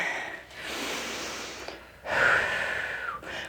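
Slow, deep breaths during a workout stretch: two or three long, close breathy inhales and exhales with a brief sharp snort-like intake, no talk.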